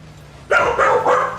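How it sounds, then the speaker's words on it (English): Three quick barks from a dog indoors during a Rocket League tournament stream, fairly close and loud, rising sharply out of a quiet room background. "Dogs!"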